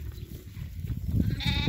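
Young goat kids on a farm, born to a one-year-old doe, give short bleats near the listener. A higher, wavering bleat rises at the end over low rustling farmyard noise.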